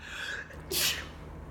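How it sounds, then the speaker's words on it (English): A single sharp sneeze bursts out close by after a brief quiet intake of breath. "I've got to sneeze."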